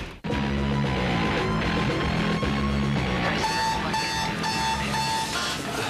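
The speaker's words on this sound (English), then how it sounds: "Alarm clocks." An alarm clock rings loudly and without a break, its electronic tones repeating in a fast, regular pattern throughout.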